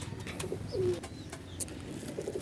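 A pigeon gives a soft, low coo nearby, brief and quiet against faint background noise and small clicks.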